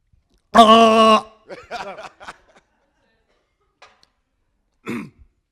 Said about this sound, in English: I'm going to clear my throat